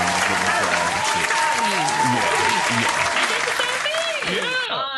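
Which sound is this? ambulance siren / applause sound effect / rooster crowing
applause sound effect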